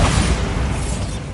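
A Bombarda blasting spell detonates in the Hogwarts Legacy video game, a loud, dense booming explosion that fills the whole moment with heavy low rumble and crackling debris, with no pause in the roar.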